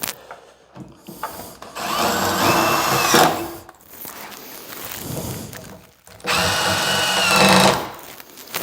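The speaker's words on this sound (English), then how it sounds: "pre-drill these screws." A power drill pre-drilling screw holes during cabinet installation whirs in two sustained bursts separated by a brief pause, loud and close, with faint handling noises in between.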